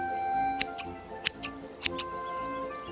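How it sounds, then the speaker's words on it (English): Scissors snip hair in quick pairs, three clusters of sharp metallic clicks close by, with a faint background hum between them. "with each snip, a curl of gold fell to the ground"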